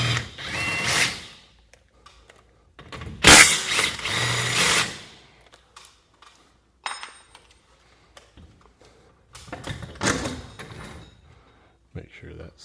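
Bolt being pulled off a garage door torsion spring system during professional spring repair: intermittent metallic ratcheting and mechanical clicks in short bursts separated by quiet gaps, close and fairly loud.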